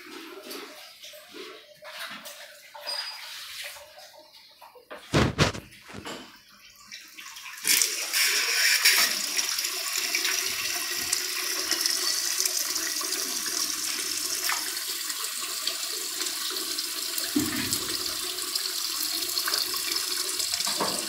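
A water pump motor switched on in a home RAS fish tank setup, with scattered knocks and handling noise giving way to a steady, loud rush of flowing water that continues unbroken.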